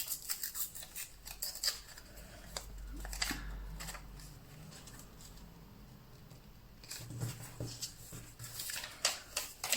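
Scissors cut something in two in a craft session, making a series of sharp, close snips and crisp clicks in irregular bursts, with quieter rustling and handling between them.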